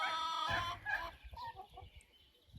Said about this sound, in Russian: Посмотрим всех квочек.